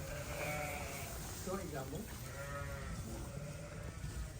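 Sheep bleat over a steady background hiss, several overlapping calls of moderate loudness.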